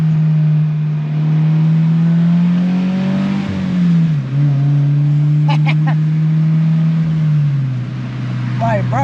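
A car with a newly fitted single-exit exhaust idles and revs with a deep, fairly tame drone that swells and dips, while someone talks over it.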